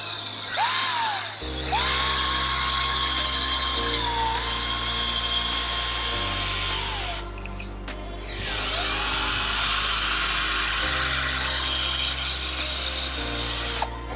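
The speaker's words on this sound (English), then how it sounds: "Once you apply the polish on your casing, you can just start buffing slowly." A power buffer polishes a Royal Enfield 650 engine casing, its motor whining at a sustained pitch that shifts in steps, with a brief pause before spinning up again.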